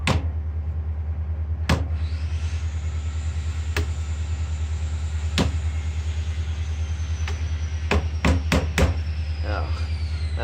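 Sharp metal impacts from hammering a stuck part on a 1996 Toro commercial 2-stroke mower (model 22040), struck irregularly with a quick cluster of hits near the end, over a steady low rumble.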